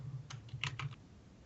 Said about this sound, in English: looking at the keyboard while typing